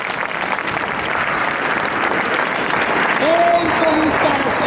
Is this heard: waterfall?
no